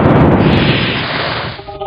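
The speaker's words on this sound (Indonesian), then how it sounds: "sepertinya suara ledakan pedang Naga Puspa" A loud explosive blast from the Naga Puspa sword booms up close, then a rumbling roar rolls on and fades out over about two seconds.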